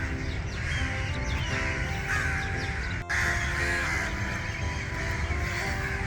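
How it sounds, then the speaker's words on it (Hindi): Many crows caw at once in Bagh-e-Jinnah park, Lahore, a dense continuous chorus of overlapping harsh calls, some near and some farther off, over a steady outdoor background. "कितने सारे कब्बे एक ही टाइम पे।"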